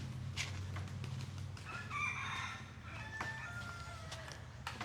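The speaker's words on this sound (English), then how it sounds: "And then there's like 3 or 4 chickens out here." Chickens cluck nearby while a rooster crows in the middle, with steady outdoor background noise in Siem Reap, Cambodia, and no talking.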